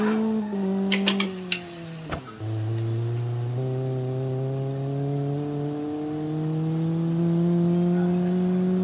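A car in BeamNG takes a fast, sharp corner, with a few brief knocks and a sharp thump before a loud engine drone and tire skid hold steady, slowly rising in pitch.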